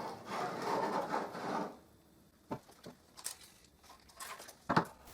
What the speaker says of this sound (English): with the jigsaw shoe against this hoop, I will cut parallel to the hoop.